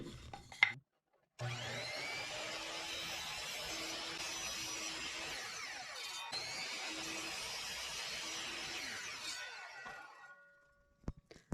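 Wood pieces for a bird feeder tray being cut by a power saw give a long, steady rasping whine that starts after a brief pause and runs about eight seconds, then winds down.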